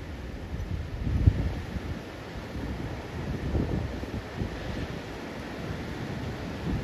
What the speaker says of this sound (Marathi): वारा खूप जोराने वाहतोय